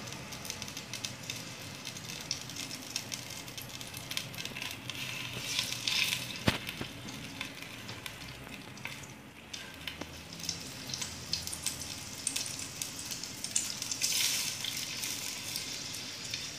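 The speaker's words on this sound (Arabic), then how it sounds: "هنا لازم نحط الزيت مع الزبدة ونخلي اللحم يتقلى فيه حتى يقرر ماء" Meat frying in olive oil and butter in a pot, a long, steady crackling sizzle with scattered pops and a few utensil knocks, close and moderately loud.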